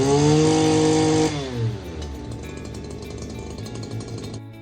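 Stihl KM94R trimmer power head engine running just after starting, a loud raspy two-stroke roar that drops to a steady rough idle, close up and alone.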